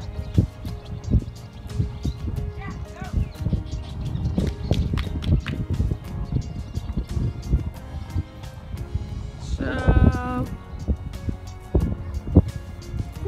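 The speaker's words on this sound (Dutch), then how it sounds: "Je voelt het gewoon onder je trillen van alle paarden die voorbij komen." Horses galloping past across a grassy field: a dense, irregular drumming of heavy hoof thuds close by, with a brief higher call partway through.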